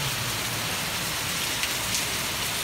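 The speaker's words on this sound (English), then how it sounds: "Napakalakas ng ulan." Heavy rain roars continuously close by, a thick wash of drumming drops with no talking.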